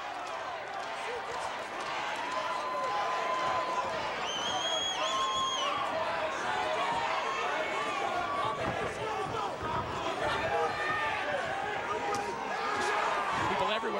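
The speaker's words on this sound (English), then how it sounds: "The crowd chanting "Bad Boy," rallying for the hometown kid." Boxing arena crowd at a fight between Brandon Cook and Chris Aucoin, a loud continuous roar of chanting and rallying voices for the hometown fighter, sustained throughout with a commentator talking over it.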